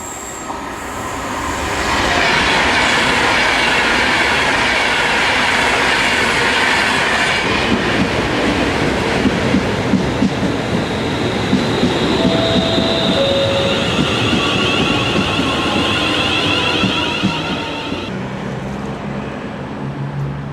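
A train runs through Stafford Station on the West Coast Main Line, rising quickly into a loud, sustained rumble with rhythmic wheel clatter and high squealing tones, then easing off near the end.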